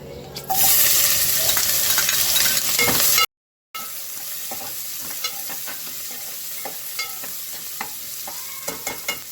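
Big onions sizzling in hot oil for a traditional mutton curry, a loud steady fry that cuts out briefly, then returns softer with occasional stirring clicks and pops.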